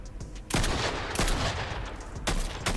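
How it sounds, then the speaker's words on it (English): Gunfire shooting through a wall in Fortnite, several sharp loud bursts of shots spaced across a few seconds over a rumbling game background. "Shooting through the wall."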